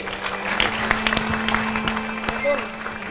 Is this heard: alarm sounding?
no